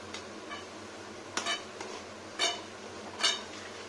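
Nimki frying in hot oil, stirred in the pan with a utensil: three or four distinct metallic scrapes and clinks against the pan over a faint background sizzle, quiet and close with no talking.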